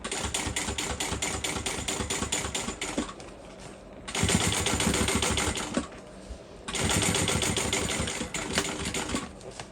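A sewing machine stitching a bowler bag: rapid, even mechanical clatter in three long bursts separated by short quiet pauses, close and loud.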